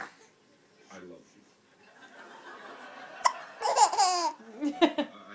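A baby hiccups a few times, with short sharp catches mixed with soft giggles and babbling, close by in a quiet room.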